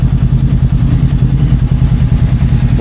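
A motorcycle engine labours in first gear on a road in Bali, a loud close rough drone with a steady pulsing throb and no voices.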